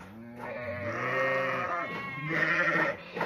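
Sheep bleat nearby on a farm during lambing season, two drawn-out wavering cries in quick succession, loud and close with no talking.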